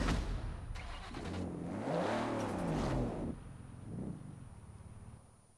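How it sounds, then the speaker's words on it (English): A 1992 GMC Typhoon's V6 engine revs in Forza Horizon 4, rising to a sweeping high-revving roar that falls away, followed by a shorter second blip and a fading idle. "let's hear this engine roar"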